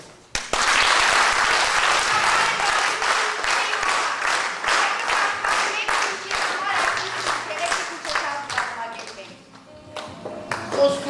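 A theatre audience applauds warmly, dense continuous clapping that starts abruptly, stays loud for several seconds, then thins into scattered claps.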